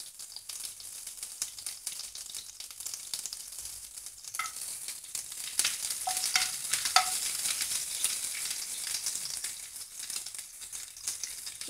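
Curry leaves hit hot ghee in a pan, giving a steady, close crackling sizzle with a few sharper pops and light stirring scrapes throughout, without any talk.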